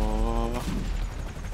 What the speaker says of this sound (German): ich muss schießen